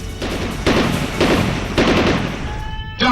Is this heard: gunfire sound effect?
yes